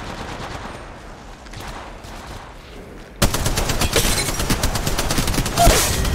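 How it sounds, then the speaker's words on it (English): Rapid automatic gunfire bursts in the Apex Legends Mobile video game, starting quiet and muffled, then jumping abruptly to loud, dense volleys that continue to the end. "Opening fire on the enemy."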